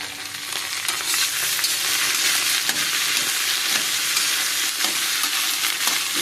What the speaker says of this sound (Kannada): ಚೆನ್ನಾಗಿ ಫ್ರೈ ಮಾಡುವ